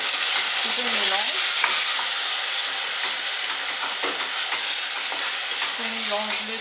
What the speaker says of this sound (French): J'ajoute aussi ma viande hachée, comme vous voyez ici aussi. Voilà. J'ajoute le tout. Je mélange.